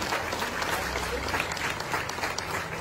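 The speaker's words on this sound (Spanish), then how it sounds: "si quieren darme un aplauso a mí," Steady applause from an event audience, a dense continuous clatter of many hands at close range, holding at an even level for a few seconds with a faint crowd murmur mixed in.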